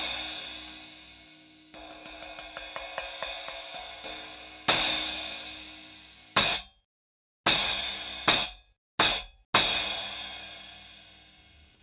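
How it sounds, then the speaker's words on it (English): An 11-inch Masterwork Fusion splash cymbal played alone, first quick ticking taps, then several bright crashes with fast-decaying shimmer, some choked off abruptly. "So I ordered an 11-inch splash cymbal"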